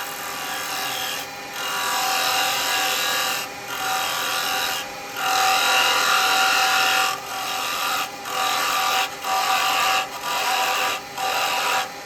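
Wood spins on a lathe while a carbide chisel from a Standard Type 3 set cuts it, giving loud sustained rasping scrapes in repeated passes broken by short pauses.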